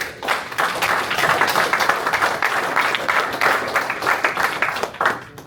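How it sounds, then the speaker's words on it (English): A crowd at a bare-knuckle fighting press conference applauds the fighters, with dense, loud, sustained clapping that rolls on for several seconds before tapering. "Give a round of applause to them."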